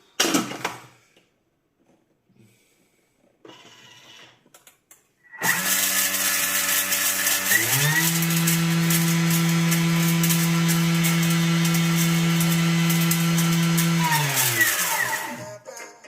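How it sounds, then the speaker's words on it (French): A blender whirs loudly and close, mixing grapefruit-flavoured seasoning with black pepper for lemon salt, starting after a few quiet clicks, holding a steady high drone with a rising pitch shift, then winding down. "je vais mixer le tout"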